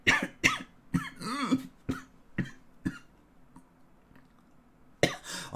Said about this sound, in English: it's pretty bad cough you got there.